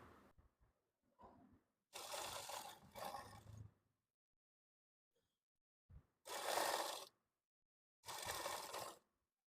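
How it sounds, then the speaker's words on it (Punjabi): Sewing machine stitching lining into a suit: four separate bursts of loud rapid whirring, each a second or two long, separated by near silence with small clicks, close and alone with no talk. "ਹੁਣ ਆਪਾਂ ਸਿਲਾਈ ਲਗਾਣੀ ਸ਼ੁਰੂ ਕਰਨੀ ਹੈ"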